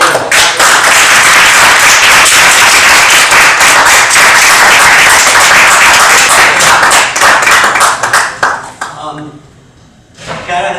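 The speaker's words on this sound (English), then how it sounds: "let's give a resounding round of applause to Dr." An audience at a book reading breaks into a sustained round of clapping, dense and loud, then thins out and tapers near the end as the room quiets.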